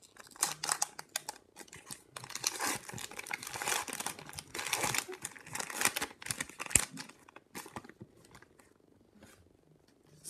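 A 2017/18 O-Pee-Chee hockey card hobby pack being torn open up close, with dense, continuous crinkling and ripping of the foil wrapper that comes in irregular bursts and tails off near the end.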